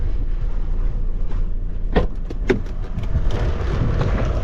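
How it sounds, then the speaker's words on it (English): Strong mountain wind buffeting a microphone outdoors, a continuous low roar with gusty thumps and bursts, loud and close, with no talk. "It is a little bit windy though."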